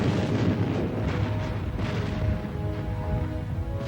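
Heavy, continuous rumbling booms of cannon fire roll on without a break, a dense, thundering barrage heard loud and alone.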